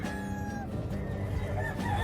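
Chickens cluck steadily nearby while a rooster crows over them at an outdoor pet market in Calumpit, Philippines, the noise continuous and fairly full.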